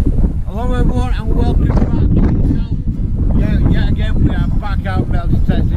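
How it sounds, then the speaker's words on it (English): Strong wind buffets the microphone in an open field during a metal detecting outing in the UK, a steady low rumble running beneath someone talking throughout. "So it is windy as hell."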